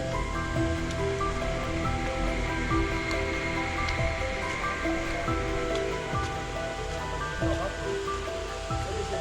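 Waterfall deep in the Bandarban hills, a loud continuous rushing roar of falling water filling the air, steady throughout, with voices talking faintly over it.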